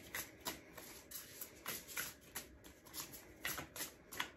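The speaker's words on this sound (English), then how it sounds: "Let's pull just one more card" Tarot cards are shuffled by hand in soft, repeated riffling bursts, with light papery slaps between them, close and quiet, and no talking.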